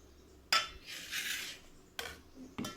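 Soaked chana dal (Bengal gram) being washed in a metal vessel: a sharp clink at the start, then a stretch of swishing and rubbing, with two more clinks near the end. Close, fairly quiet, no voices.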